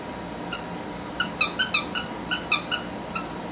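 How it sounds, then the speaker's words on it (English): A rocket-shaped dog toy's squeaker gives a burst of high, rapid squeaks, about a dozen close chirps in quick irregular succession after one early squeak, with no talking. "The squeaker is very hard to get to."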